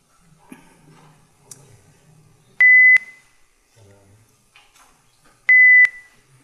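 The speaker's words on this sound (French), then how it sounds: "cette sinusoïde, c'est 2000 Hz" Two short, high 2000 Hz pure sine-tone beeps sound a few seconds apart, each clean and steady, with faint rustling and quiet background between them.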